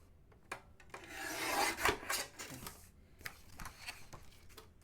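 Craft card for a Santa box being trimmed with a paper trimmer, giving soft rubbing, rasping strokes at close range, with one louder sweep in the middle and a few light taps.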